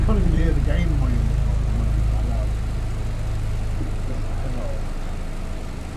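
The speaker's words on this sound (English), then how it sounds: "Helicopter kind of low." A helicopter flies low overhead in snowy Yukon backcountry, its deep, continuous rotor drone holding steady and only slowly fading, partly masked by voices talking over it.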